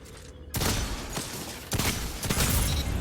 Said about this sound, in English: So now I'm just going to start charging my shots again.